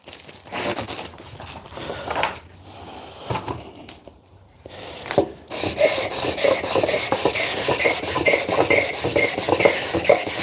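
Carbon fiber is hand sanded with 800 grit sandpaper, with scattered scrapes and handling noises at first, then a brisk, steady rhythmic rasping strokes close up.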